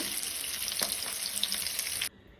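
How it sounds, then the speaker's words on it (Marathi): Mackerel fillets frying in a hot pan, a steady close sizzle and crackle with faint spatter pops that stops abruptly near the end. "दोन्ही वाटल्यान बरें फ्राय करून घेवया"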